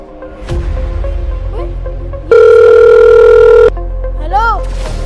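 Telephone tones sound in a tense kidnapping scene: a steady loud dial tone for over a second after scattered beeps, followed by rising chirps, all under a low room hum with no speech.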